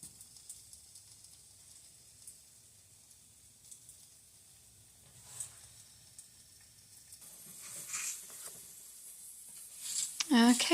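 Potatoes and onions fry in a pan with a faint, steady sizzle that grows louder and crackles more toward the end, punctuated by a few stirring scrapes close at hand.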